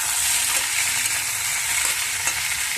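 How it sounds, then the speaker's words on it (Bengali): Vegetable stalks sizzling and frying in a pan for a singi fish curry, with a steady dense crackle and occasional stirring scrapes, close and continuous with no talk. "এবারে আমি ডাঁটাটাও কিন্তু একটু নেড়ে চেড়ে নেব"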